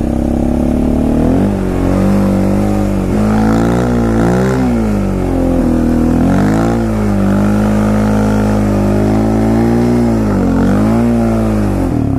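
A Yamaha Raptor quad ATV rides through about four inches of snow, its engine loud and close, revving up and easing off in repeated rising and falling sweeps.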